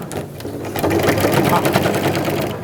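A sewing machine stitching crystal plastic for an organizer pouch, a fast continuous mechanical rattle close up, brief and steady, with a person talking over it.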